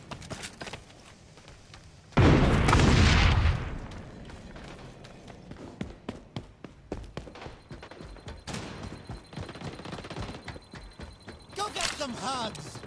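A frag grenade in the shooter XDefiant blasts loud and heavy for about a second after a short pause, followed by scattered gunfire, thuds and clatter, with a voice calling out over the game sounds.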